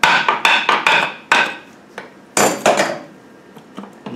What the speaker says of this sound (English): we're going to get our hammer and just tap ever so lightly under here